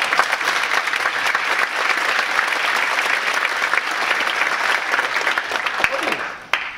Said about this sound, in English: Let's have a big round warm of applause for Dave Carter.